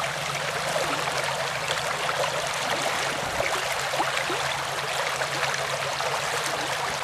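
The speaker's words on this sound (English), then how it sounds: "The water's moving pretty quickly." A fast-flowing stream in a national park, rushing water hissing in a steady, dense wash close by, with no voices over it.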